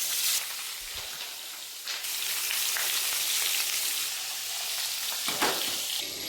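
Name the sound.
fish frying in a pan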